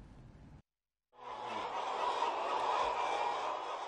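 Laying hens on an egg poultry farm in a village in Sumenep, a dense chorus of clucking and squawking birds after a brief silence, close and continuous.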